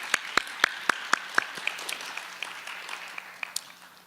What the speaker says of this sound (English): I'd like to ask you to give a big round of applause to all these contributors.